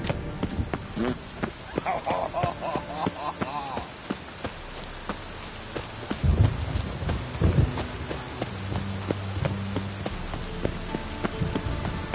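Rain patters steadily in a Witcher 3 game world while deep thunder rumbles roll in mid-way, with scattered footsteps and clattering movement mixed through the storm.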